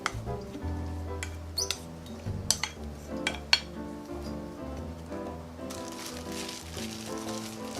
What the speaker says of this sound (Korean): 양념한 고기에 잘라놓은 부추와 파를 넣고 살살 섞어주겠습니다.